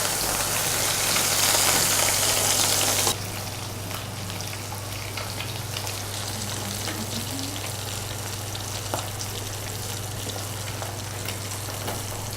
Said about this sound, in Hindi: ये फ़िश हमारा फ्राई हो चुका है